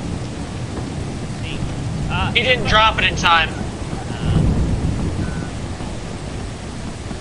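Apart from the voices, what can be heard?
lightning strike and thunder in video game Lethal Company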